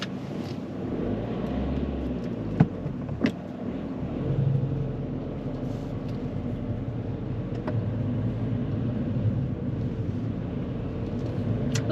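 A car pulls away during a driving lesson, a steady low engine rumble with road noise throughout, a couple of sharp clicks early on, no talk.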